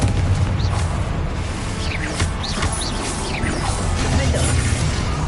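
The Confringo fire-blast spell from Hogwarts Legacy goes off as a loud, dense burst, followed by crackling whooshes and rumbling impact sounds that keep up for several seconds amid busy game noise.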